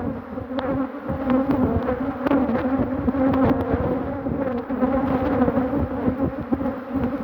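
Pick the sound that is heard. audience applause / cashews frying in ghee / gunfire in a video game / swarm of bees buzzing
swarm of bees buzzing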